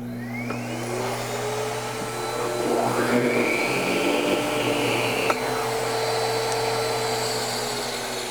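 A central vacuum runs with its power head switched on, making a loud, continuous, steady whine and motor hum close by, with a slight rise in pitch as it spins up. There is no talking.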